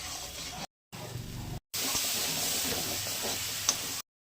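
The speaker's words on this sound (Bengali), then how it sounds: "এবার কষিয়ে নেবো ভালো করে, তারপরে দইটা দেবো।" Spiced fish paste being sautéed in a pan, a quiet steady sizzle and hiss with brief cut-outs and a few soft clinks.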